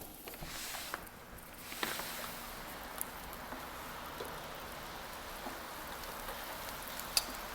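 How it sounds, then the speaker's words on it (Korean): Light winter rain drizzles steadily outdoors, a soft continuous hiss of patter with occasional sharper drops, fairly faint and with no one talking. "겨울비가 부슬부슬 내리는구나."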